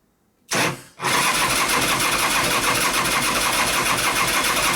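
The 2001 Gilroy Indian motorcycle race bike, fueled but failing to fire, gives a brief burst followed by a continuous loud mechanical cranking roar that holds steady to the end.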